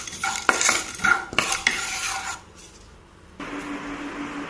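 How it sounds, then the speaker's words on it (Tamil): Black pepper and cumin being dry-roasted in a pan make close scraping and rattling stirs with a few metallic clinks, then a quieter stretch and a soft, steady hiss, with no talk. "மிளகு சீரகம் சும்மா ஒரு சிட்டிகை போட்டு அதை நல்லா வறுத்து எடுத்துக்கோங்க."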